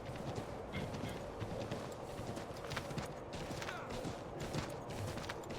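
A horse gallops in Assassin's Creed 3 Remastered, its hooves pounding in a continuous, even rhythm with creaking tack, loud and close over a dense, noisy game soundscape.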